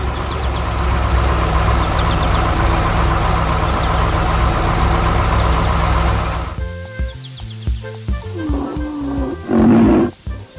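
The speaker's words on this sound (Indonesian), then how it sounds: "Traktor dan trailer sedang bekerja keras mengangkut tanaman segar yang akan dijual di pasar." Cartoon tractor engine hauling a trailer of green crops: a loud, steady engine drone runs for about six seconds, then gives way to broken, uneven rumbling bursts with a strong swell near the end.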